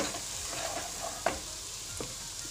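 Spices for chole sauté in a hot pan with a soft, steady sizzle, broken by a few spoon scrapes and stirring knocks, close and quiet, with no talk.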